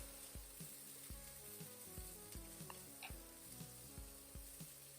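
Cooked peanuts are stirred in a frying pan, with soft, rhythmic scraping strokes over a faint, continuous sizzle, quiet and close.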